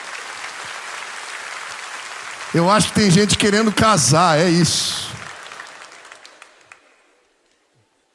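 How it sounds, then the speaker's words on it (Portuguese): Church congregation clapping at a Baptist church service, steady applause underneath as someone speaks over it, then the clapping thins and fades out to near silence. "Pode aplaudir, o povo está animado hoje."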